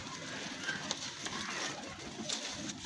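Pigeons coo softly in a loft with a steady background murmur, a few faint low calls rising now and then over about three seconds, with no voices.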